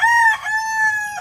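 A young backyard rooster (stag) crows once, loud and close, its long ringing call rising and then holding steady with no other sounds.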